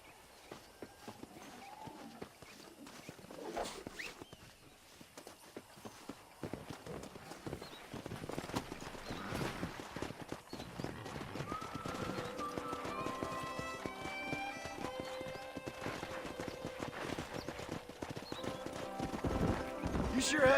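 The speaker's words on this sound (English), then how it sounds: "Let's see if we can't wrangle some horses." Horses in the Red Dead Redemption video game, with steady hoofbeat clip-clop, occasional whinnies and neighs, growing louder and busier over time, with voices talking intermittently and music-like tones in the background.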